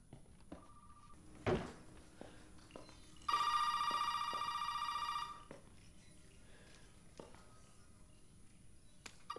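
Old-style telephone in Resident Evil 7 rings once with a bright, electric bell trill lasting about two seconds, set against a quiet room with scattered thumps and knocks.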